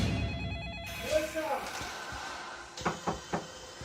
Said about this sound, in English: immediately dial her home number. There's no answer as they hear it ringing inside the house